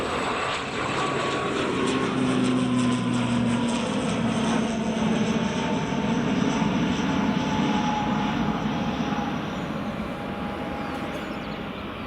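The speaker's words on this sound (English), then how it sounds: "Got a BizJet coming in from Sweden in just a second" A business jet from Sweden arrives at Edinburgh Airport, its engines producing a steady, loud droning roar with a slowly gliding whine that holds for the full stretch, with no voices.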